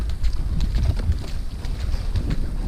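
Wind gusting over Lake Yanisyarvi during fishing in bad weather, a loud, rough rumble of air buffeting the microphone continuously with no clear pauses.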